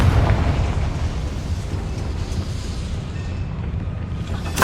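Confringo spell explosion in Hogwarts Legacy on PS5, a deep rumbling blast with a heavy low boom that rolls on and slowly fades, with a sharp crack at the very end.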